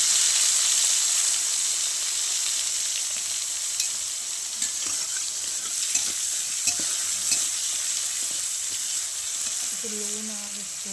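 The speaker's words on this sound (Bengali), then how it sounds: "এবার আমি বেগুনগুলো ভালো মতন ভেজে নিব।" Eggplant fries in hot oil with a steady, loud sizzle and hiss while being stirred, giving occasional soft scrapes and taps, and a voice briefly at the end.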